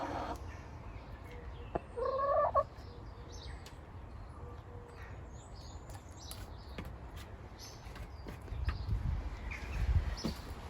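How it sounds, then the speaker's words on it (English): A broody hen lets out a single short, high squeal that rises and wavers, fairly close, over a quiet outdoor background on an overcast evening. "You know that squeal. The classic broody squeal."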